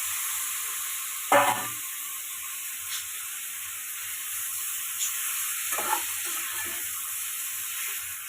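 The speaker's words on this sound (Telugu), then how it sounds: "ముందుగా మ్యారినేట్ చేసి పెట్టుకున్న చికెన్ని ఇందులో యాడ్ చేసుకుంటాను" Marinated chicken goes into hot oil with masala for a drumstick chicken curry, giving a low, continuous sizzle and hiss with a brief burst near the start and a couple of soft stirring scrapes later.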